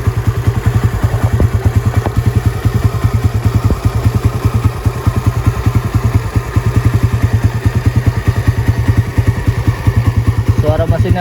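Close, loud idle of a Suzuki Raider 125 motorcycle engine, an even, rapid thumping putter with slight clatter, running steadily throughout with a small rev near the end.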